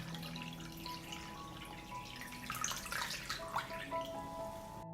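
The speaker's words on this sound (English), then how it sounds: "I pour water up to the height of the lid." Water is poured into a pot that holds closed glass jars of blueberries, producing a faint, continuous trickling and splashing that swells slightly midway and carries on to the end.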